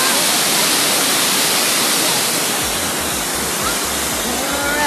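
Loud, steady rush of flowing river water fills the whole clip, a dense broadband roar like a fast stream or small falls close by, at Tala River in Bailen, Cavite.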